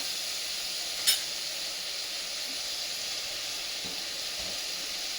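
Tomatoes added to frying onions hiss in a steady, moderate sizzle, broken by one brief sharp crackle near the start and a few faint clinks later, with no voices.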